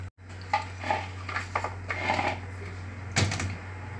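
Knife chopping carrots into pieces on a cutting board in a home kitchen while making peach and carrot juice, a few scattered dull taps and clicks over a steady low hum.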